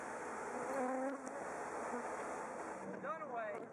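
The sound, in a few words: bees swarming around a beehive being attacked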